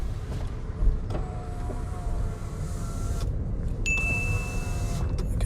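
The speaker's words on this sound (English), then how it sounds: "show me how to put the windows up and down" Inside a car during a driving test, the power windows whir steadily up and down under a constant low cabin rumble, with a brief electronic tone partway through.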